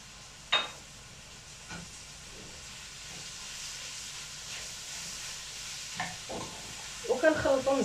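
Onion and green pepper frying in butter in a pan, a steady soft sizzle and hiss throughout with a few stirring clinks and scrapes, louder bubbling toward the end.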